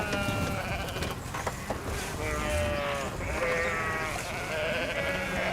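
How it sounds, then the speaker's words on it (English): Sheep bleating repeatedly, several overlapping wavering calls near and loud over a busy background of rustling and shuffling, with no talk. "I think I'm going to have to go back to counting sheep."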